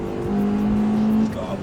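A Ford ST's engine drones steadily while driving, with a sustained low tone and road noise heard from inside the car, as someone speaks over it.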